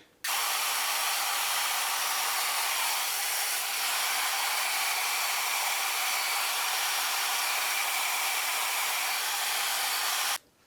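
An Ibiza RLX4 hair dryer runs on its high power setting, a loud steady broadband whoosh of blowing air that starts abruptly, holds constant for about ten seconds, then cuts off, with no voices.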